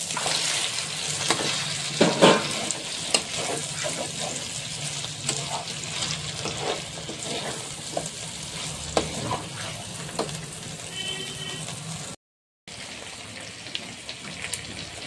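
Chicken pieces frying in a sizzling, well-cooked masala for dhaniya chicken: a loud, continuous crackle with intermittent stirring scrapes near the pan, with a brief silent gap late on.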